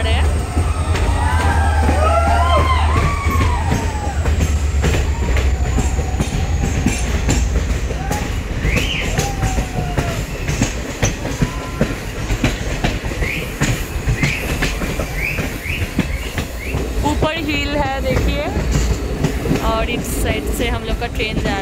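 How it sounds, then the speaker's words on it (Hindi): Amravati Express passenger train rolling along the Goa line near Dudhsagar Falls, entering a tunnel: a steady, loud rumble of wheels with clickety-clack and some squealing throughout, with voices talking over it. "सामने टनल है, हम लोग अंदर जा रहे हैं।"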